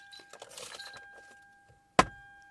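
Toyota Crown car keys give one sharp metallic jangle, close and fairly loud, after a stretch of soft handling noise in a parked 2006 Toyota Estima Hybrid.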